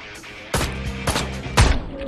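Gunfire in Ride to Hell: Retribution, three sharp, loud shots spaced about half a second apart, each with a short ringing tail, the last one heaviest.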